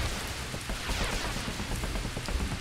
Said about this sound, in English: Okay, so it always rains.